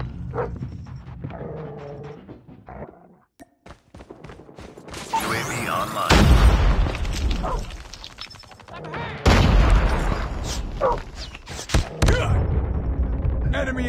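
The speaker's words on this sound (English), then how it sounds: "hostile Predator missile inbound" Explosions from a Predator missile strike boom across a Call of Duty: Mobile match, with heavy low blasts and bursts of gunfire among radio-style game voice callouts, loud and close, in a rapid fire mode.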